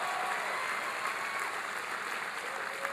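A large town hall audience applauds steadily for Lieutenant Governor Barbara Lawton, a dense, even wash of clapping that holds at a constant level throughout with no voices over it.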